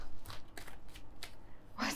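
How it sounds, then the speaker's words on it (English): Tarot cards being shuffled close up: several quick, papery riffling bursts, with a louder flurry at the end. "It says sorry and keeps shuffling loudly."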